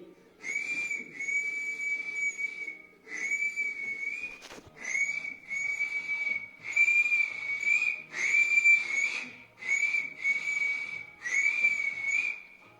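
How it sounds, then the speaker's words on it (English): Someone tries a loud finger taxi whistle, producing about eight shrill, sustained whistle blasts in an uneven sequence with brief pauses between them, nearby and clear. "It's day 5 of this taxi whistle challenge, and I'll show you what I got."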